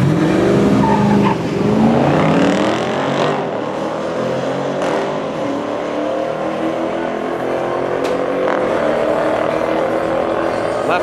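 Drag race cars roaring down the strip at a Yello Belly Drag Strip race night, loud engine whine sweeping upward and fading with distance, crowd murmur and voices in the background.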